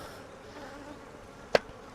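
Honey bees buzzing near the hive during a honey harvest, a faint continuous drone with a brief louder buzz as one passes close by, no talking.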